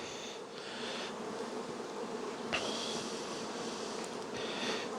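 Honeybees at an open hive being inspected after a new mated queen was introduced, a steady dense buzz filling the whole stretch with swells in intensity, close and continuous, no voices.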